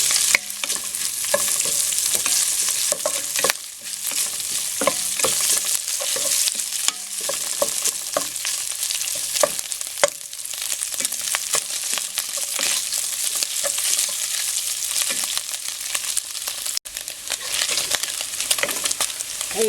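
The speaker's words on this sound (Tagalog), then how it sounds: "I-lightly fry lang natin itong pork dito." Pork lightly frying in a pan for macaroni soup, a steady close crackling sizzle with occasional stirring scrapes, continuous throughout and free of talk.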